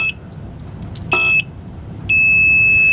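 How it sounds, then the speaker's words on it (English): A retail security tag deactivator pad gives a short beep, then a sustained long beep as a hard super tag is held over it, loud and close with nothing else but faint room noise. "it does that long beep to let you know that there's a hard tag there"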